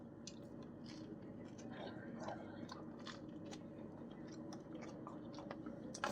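Quiet close-up chewing and soft bites on a Panera Bread ciabatta cheesesteak sandwich. The moist crunches come in irregular bursts over a low room hum.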